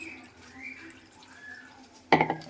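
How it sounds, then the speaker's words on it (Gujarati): Water poured over jaggery, tamarind and dates in a pot: a short, loud splashing burst near the end, after a quiet stretch with faint drips. "હવે આમાં આપણે પાણી નાખી દઈએ"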